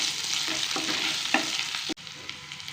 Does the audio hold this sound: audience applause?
no